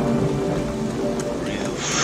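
Heavy rain and wind in a 1976 Western film scene, a steady broadband wash of downpour with gusts throughout, loud and close.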